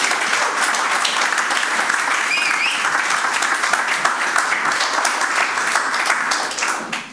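A roomful of people applauds steadily at a conference on new forms of work, the dense clapping holding at an even level before tapering off at the end.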